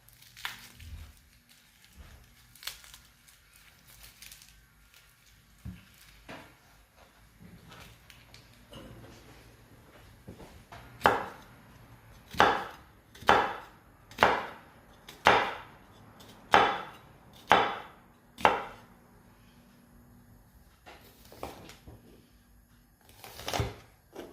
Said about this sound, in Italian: Sbucciamo quindi la nostra cipolla.